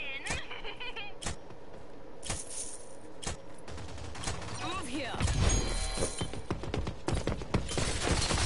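Rapid submachine-gun fire in a video game, crackling in short bursts among other game noises while a player talks over it.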